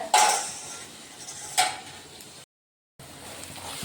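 Onions sautéing in a pan for chapdi tavo, a soft sizzle with two sharp clanks of a utensil against the pan and a brief silent gap.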